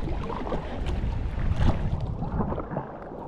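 Kayak paddling on Loch Sween, a steady broadband rush of water and wind around the hull with continuous splashing strokes, close and moderately loud, with no voices.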